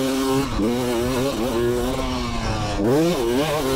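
A Beta RX 350 two-stroke dirt bike ridden hard, its engine note rising and dropping through repeated revs and gear changes, loud and close throughout with a raspy buzzing tone.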